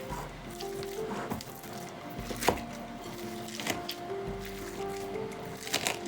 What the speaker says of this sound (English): I don't want there to be big chunks of that broccoli, so I'm just going to kind of chop it up a little bit.